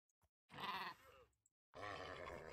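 Minecraft horses giving two loud grunting whinny calls with a harsh bleating quality, the first shorter and fading into a low rumble, the second longer and sustained after a brief gap.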